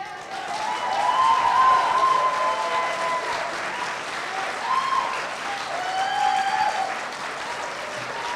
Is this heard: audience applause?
yes